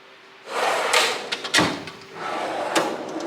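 A metal Snap-on toolbox drawer slides open with a scraping rattle, followed by a sharp clank and more sliding, close by.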